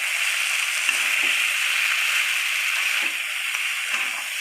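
Vegetables seasoned with salt and turmeric are stirred in a hot frying pan, giving a steady close sizzle with faint scraping stirs, and a voice speaks briefly.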